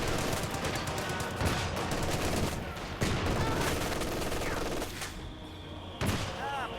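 Machine gun fire in the World War II strategy game Company of Heroes 2 comes as dense, loud rattling bursts and overlapping gunshots across the battlefield, with occasional distant booms.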